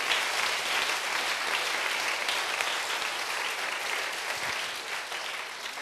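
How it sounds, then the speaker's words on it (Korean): A church congregation applauds with dense, sustained clapping that fills the room at an even level, with a faint murmur of voices beneath it. "박수로 주님께 영광 믿으십니다"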